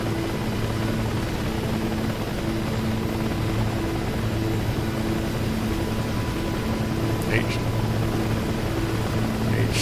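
An H-60 helicopter flies with a constant, droning rotor thrum and engine whine that holds steady and fairly close throughout. Brief radio-like chirps come near the end.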